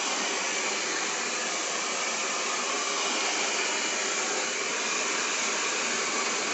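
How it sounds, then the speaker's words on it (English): A hair dryer blows steadily onto hair over a round brush, a loud, constant close-up rush of air with no breaks or voices. "all the hair can flow into each other as you blow dry"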